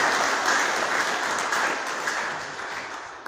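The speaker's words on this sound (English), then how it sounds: "Let us clap for ourselves." A gathering of Catholic men at a meeting in Livingstone applauds, a loud, continuous wash of clapping that holds steady and then eases off slightly toward the end.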